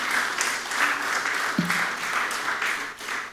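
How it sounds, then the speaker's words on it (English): A crowd claps and applauds at an annual Emancipation lecture, a dense, continuous wash of hands that holds steady for a few seconds. "I'd like to hear clapping, so clap some more"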